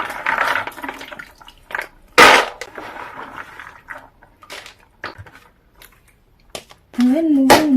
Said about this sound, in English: I'm going to go ahead and add some water in. And then my nuts go in. And then I'll quickly wash them